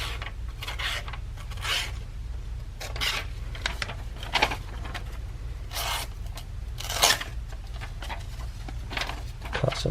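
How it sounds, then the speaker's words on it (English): Kershaw Clash knife slicing, a series of short rasping strokes at an irregular pace, close and fairly quiet, over a low steady hum. "So it's slicing pretty well."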